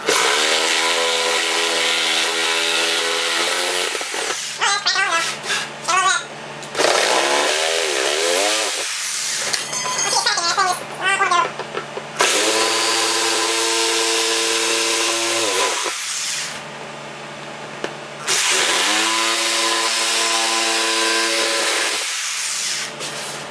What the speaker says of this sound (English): Alright, jigsaw time.